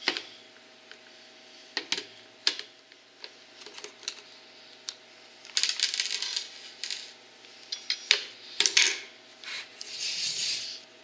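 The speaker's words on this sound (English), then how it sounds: "Go around and take all the screws out." Screws are removed from a Porter Cable cordless tool case, heard as scattered close metallic clicks, taps and small rattles with quiet gaps between them and a busier cluster near the end.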